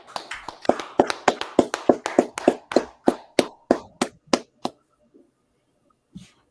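A few people clap for a captain at a North Carolina brotherhood class: a brisk burst of sharp, close hand claps that slows and thins out over about five seconds, then stops, with one faint stray sound near the end.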